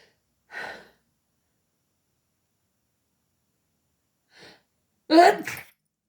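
A single sharp sneeze, preceded by a couple of faint breathy intakes, in an otherwise quiet room.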